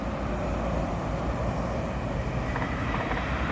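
A train rumbles past in a continuous, steady roar, with no voices.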